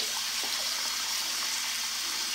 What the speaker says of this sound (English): use the force of the water flow to stir up my